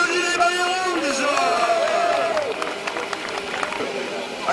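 A crowd applauds the jerseys at a French running-event prologue, clapping and crowd noise under an amplified announcer's voice, growing more scattered and distinct in the second half.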